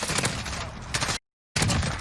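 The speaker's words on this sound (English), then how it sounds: "Right here, you can see that there's gunfire here." Dense bursts of Call of Duty: Modern Warfare gunfire crackle continuously, broken by a brief silent gap before the rapid shooting resumes.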